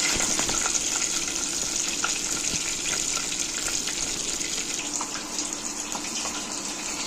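Paneer sticks fry in hot oil with a steady, fairly loud sizzle that hisses without a break for several seconds, with no voices over it.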